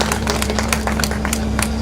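An audience at a Hindi kavi sammelan poetry show claps steadily, a dense patter of many hands that stays even and loud for a couple of seconds.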